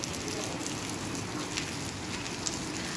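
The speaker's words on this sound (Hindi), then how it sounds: "ये देख लो इतनी तेज बारिश है।" Heavy rain falling steadily in Shimla, a dense, even hiss of drops striking surfaces close by, continuous and alone with no voices.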